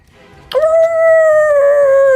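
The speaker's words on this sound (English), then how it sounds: "The wargs down below circle, howling, letting everything know that something is here." A single long canine howl, like a warg's, rises sharply and holds a steady wavering tone, loud and close, with no voices over it.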